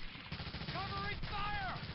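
Gunfire in the World War II shooter game Medal of Honor: Allied Assault, a continuous dense battle din of distant shots under game voices and shouting.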